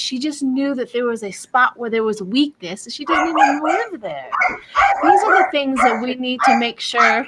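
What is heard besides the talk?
dog barking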